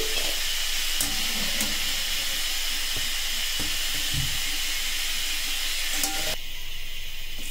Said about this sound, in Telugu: ఆలూస్ని వేయగానే కలపకండి, కొంచెం అవి ఫ్రై అయిన తర్వాత కలుపుకోండి